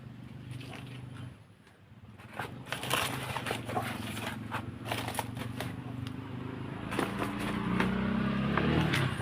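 A motorcycle passes outdoors, a steady engine rumble that builds and grows louder toward the end, with scattered clattering and handling noises on top.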